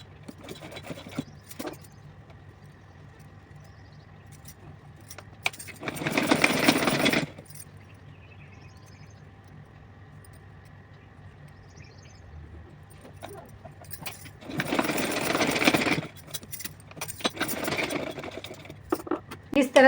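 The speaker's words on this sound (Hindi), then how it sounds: "इस पर सिलाई लगाऊँगी। तो चलिए सिल के दिखाती हूँ।" A sewing machine stitches a fabric strip onto a small doll dress in two loud bursts of steady whirring, separated by quieter stretches with faint handling noise and a voice.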